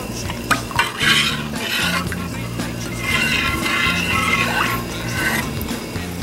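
A spoon scrapes and knocks around a pot of warming cheese mixture in repeated stirring strokes, close and steady, with a faint low hum beneath.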